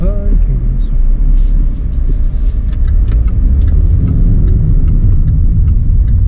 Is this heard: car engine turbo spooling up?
yes